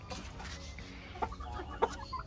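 Short, low clucking calls from an agitated rooster, a couple of brief sharper notes standing out over a steady rustling background.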